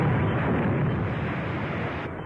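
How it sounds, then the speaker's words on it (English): A 3-inch artillery shell fired and bursting in a 1945 film serial, heard as a loud, dense roaring blast that fills the whole clip and fades slightly toward the end. No speech over it. "That's a 3-inch shell they're firing at us."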